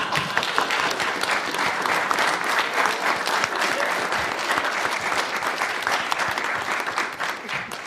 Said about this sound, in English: I certainly think we do owe Jeanette perhaps another round of applause for all her work